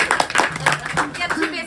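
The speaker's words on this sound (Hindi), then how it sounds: "ताली थी इस वाली पे तो।" A short burst of hand clapping, several quick claps close by, mixed in with people talking at a home birthday celebration.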